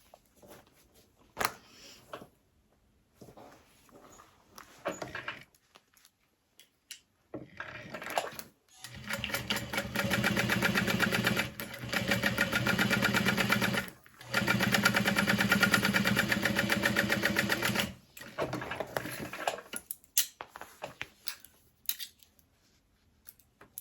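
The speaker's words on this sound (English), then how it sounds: "then we will top stitch along that edge" A home sewing machine top stitches along the edge of a cross-body sling bag, running in a few long steady whirring bursts with short pauses, after some sparse clicks and handling noises.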